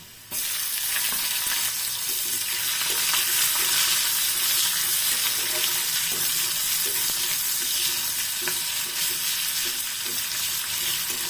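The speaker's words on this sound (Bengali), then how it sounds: "পেঁয়াজগুলো এক মিনিট ভেজে নেব" Onions fry in hot oil in a kadai with a loud, continuous close sizzle that starts abruptly and holds steady, broken by light stirring clicks, with no talking.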